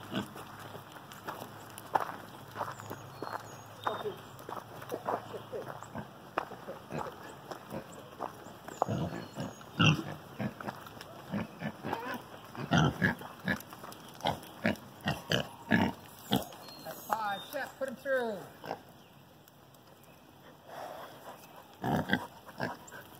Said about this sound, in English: You are a troublemaking pig.